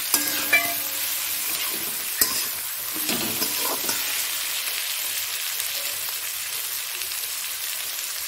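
Onions frying in a pan with salt and sugar added, giving a steady close sizzle with a few stirring scrapes near the start, then a constant even hiss.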